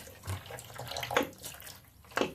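Sanitiser liquid poured back out of a glass demijohn during home brewing, a faint, uneven splashing and gurgling of liquid with a few louder sloshes.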